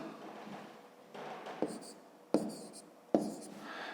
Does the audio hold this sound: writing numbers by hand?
yes